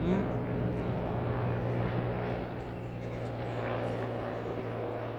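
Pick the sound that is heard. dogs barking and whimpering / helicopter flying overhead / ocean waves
helicopter flying overhead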